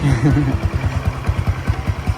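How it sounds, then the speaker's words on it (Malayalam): Motorbike running close by in a Vietnamese village, a pulsing low engine putter that chugs rhythmically and fades slightly, with a voice briefly over the start. "ഇവിടുത്തെ പ്രധാന വണ്ടിയാണ് അത് ഈ കാണുന്ന ബൈക്ക്."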